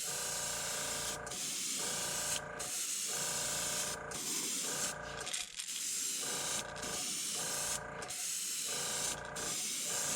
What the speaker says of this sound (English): This stuff is thin, so it sprays out of there